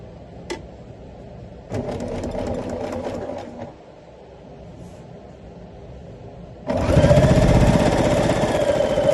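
Sewing machine stitching white quilt block pieces together, a few short bursts of rapid mechanical whirring followed by a louder, steady run of close stitching.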